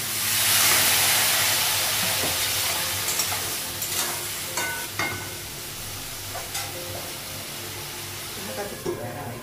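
Vegetables sizzle and hiss loudly in a hot pan as a little water is added, the steam burst fading into steady frying with light stirring clicks.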